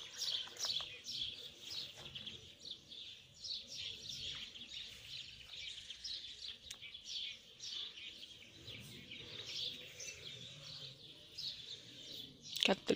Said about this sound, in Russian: У нас тут так птички поют.